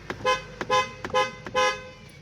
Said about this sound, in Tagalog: So, ayan, busina natin ulit.